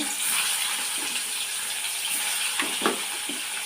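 Koi fish frying in hot oil for a curry with potatoes and taro, giving a steady close sizzling hiss with a few sharper crackles and spatters near the end, no voices.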